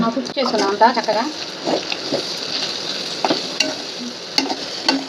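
Chicken pieces frying for chicken fry sizzle steadily while being stirred with home-made garam masala, with clattering scrapes early on and a voice briefly heard at the start.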